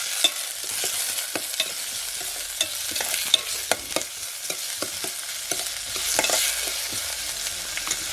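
Tomato fries in a pan for a Konkan-style green pavta and potato curry, making a soft steady sizzle as a spoon stirs and taps the pan in irregular clicks, with no one speaking.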